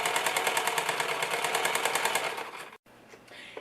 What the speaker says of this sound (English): You're just going to sew on top of your lines and just follow your lines all the way out.